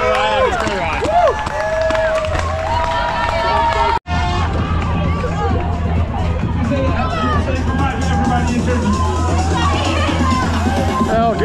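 Marathon spectator crowd near the finish line of the Amsterdam Marathon, a continuous roar of cheering voices and babble close by, loud and sustained, with a brief dropout partway through.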